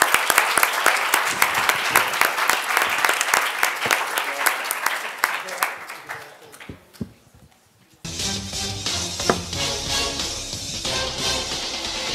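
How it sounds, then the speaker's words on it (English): An audience at an entrepreneur pitch competition event applauds the participants, with dense steady clapping that fades out over several seconds, then a speaker addresses the room. "So another round of applause for everyone that participated."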